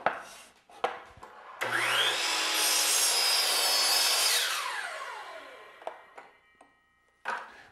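A miter saw cuts through a piece of crown molding with a loud, steady whine that rises and then winds down, framed by a few sharp knocks and clunks before and after.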